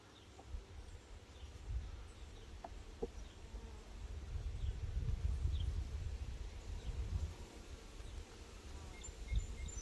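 Honey bees from a queenless hive colony of eight or nine frames hum in a faint, continuous low drone, with soft rustles and occasional outdoor sounds around them.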